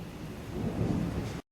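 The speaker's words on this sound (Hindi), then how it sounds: "इतनी तेज बिजली गरज रही है" Thunder during heavy rain rumbles as a deep, continuous roar over the hiss of falling water, loud and steady before cutting off abruptly.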